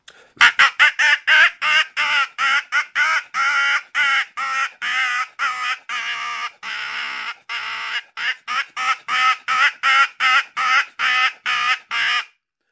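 A Crowman hand-held hooded crow call imitates cawing in a long, fast series of short, harsh, nasal caws, steady and loud, with brief gaps between them.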